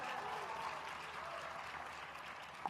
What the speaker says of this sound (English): The crowd erupts for the underdogs